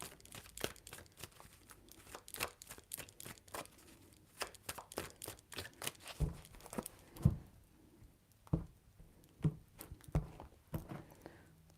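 Tarot cards are shuffled three times in quick papery flutters and soft riffling taps, close and quiet, coming in uneven clusters with small gaps between them and no talking over the sound.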